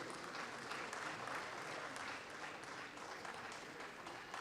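Steady applause from an audience at a government official language award ceremony, dense and continuous throughout as a shield is presented to an honoree, with no break in the clapping.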